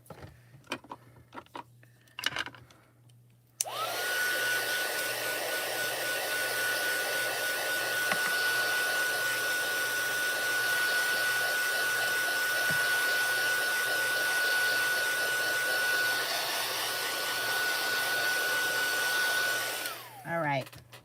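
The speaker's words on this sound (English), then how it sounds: "So I am going to just take the heat tool to it real quick here." An embossing heat tool runs steadily to dry ink for a stamping craft, a loud continuous blowing whir with a high whine that starts abruptly after a few quiet seconds, holds for about sixteen seconds, then winds down.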